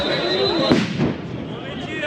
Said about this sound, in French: Les machins! Les pétards!